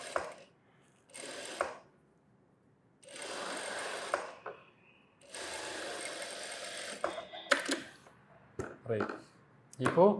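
A sewing machine stitches a blouse in several quick, rattling runs separated by short pauses, with a person talking now and then between bursts.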